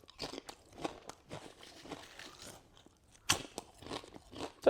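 Well-cooked salt and vinegar crisps being eaten up close, with repeated crisp crunches and chewing in irregular bursts and no talking.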